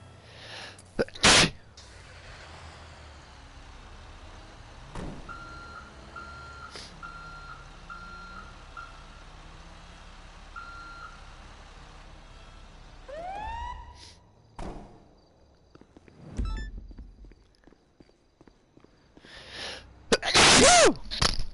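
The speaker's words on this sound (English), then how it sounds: "I sneezed so hard that my mic came off my head." A hard human sneeze bursts out near the start, loud and close, followed by a long stretch of quiet room tone with faint electronic beeps and a later rustling clatter.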